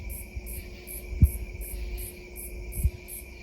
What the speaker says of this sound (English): It's mighty loud out here in the woods. Crickets, birds.